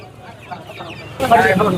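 Chickens at a poultry market giving a short burst of clucking near the end, after a quieter stretch of faint market murmur and soft voices.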